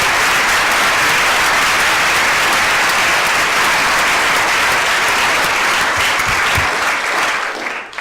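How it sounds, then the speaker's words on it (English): A large audience at a lecture gives a dense, sustained round of applause. The clapping stays loud and steady throughout and thins slightly at the very end. "Let's give them one more round of applause for all those."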